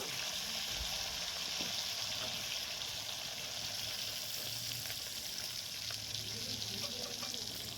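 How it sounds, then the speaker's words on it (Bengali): Green chillies and tomato frying lightly in hot oil, a steady close-up hiss and crackle holding even throughout with faint stirring clinks underneath. "এবারে এটা তেলের মধ্যে হালকা ভেজে নেব"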